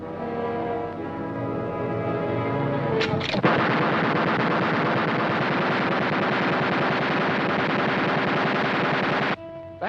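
Aerial machine gun on a 1943 World War II bomber firing out of control: a loud, continuous roar of rapid automatic fire running almost unbroken for several seconds before cutting off abruptly.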